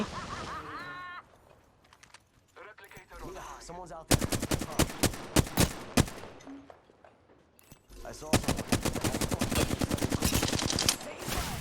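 Rapid automatic gunfire in the video game Apex Legends comes in two long, loud bursts of tightly spaced shots, with excited talk from players in between and beneath.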